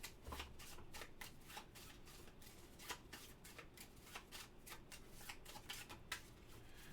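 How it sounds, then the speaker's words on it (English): Playing cards shuffled for a two-handed solo board game of Duffers: a steady run of crisp riffling clicks and flutters, fairly close and continuous, with no talking. "We're now going to shuffle."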